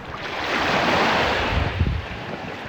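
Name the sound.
wind blowing, original recorded ambience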